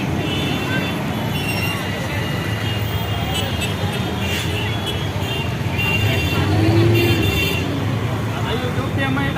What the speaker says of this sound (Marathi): हे बस चाललेले आहे